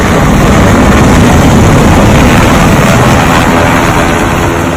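Military helicopters fly low overhead with a loud, steady roar of rotors and engines that fills the air without pause.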